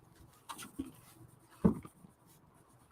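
Colored pencil scratches and scrapes across paper in short, soft strokes, close and faint, with scattered pauses between bursts of shading.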